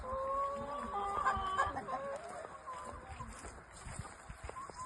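Chickens cluck and murmur up close, the few survivors of a flock of more than fifty in Jamaica after Hurricane Melissa. Their calls overlap against a low background murmur.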